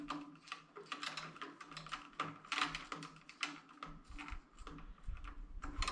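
A plastic wire nut twisted onto electrical wires, quiet irregular clicking and ratcheting scrapes in close succession, faint and near.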